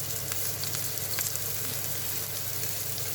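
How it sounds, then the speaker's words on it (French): Mackerel laid in a hot frying pan gives a steady, even hiss of sizzling fat, close and continuous with no voices. "Donc là notre maquereau, hop, on le met dans notre poêle."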